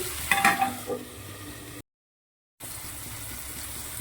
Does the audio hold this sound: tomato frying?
yes